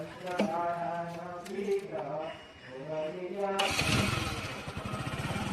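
A motorcycle engine revs and is put into first gear during a Tulu village festival outing, the motor rising into a louder rasping run near the end while people talk throughout.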